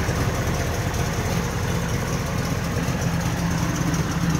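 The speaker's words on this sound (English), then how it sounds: "There's an exhaust leak." A 1973 Chevy Camaro Z28 engine idles with an exhaust leak, a steady loud low rumble with a raspy pulsing edge, recorded close by with no speech.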